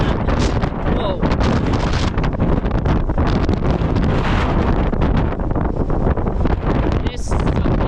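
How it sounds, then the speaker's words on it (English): Strong wind roaring and buffeting a microphone outdoors during an Alaska winter storm, loud gusty rumble throughout with a person speaking under it. "It is so windy, it's taking the hood off my head."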